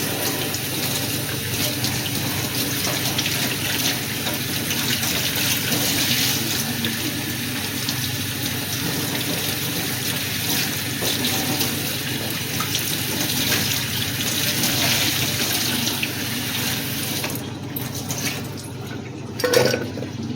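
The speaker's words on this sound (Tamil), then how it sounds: "இதை குக்கரில் போட்டு நல்லா கழுவி எடுத்துக்கலாம்" Taro root being washed under running water inside a pressure cooker, a steady loud gush of tap water splashing into the pot for about twenty seconds, with a brief clatter near the end.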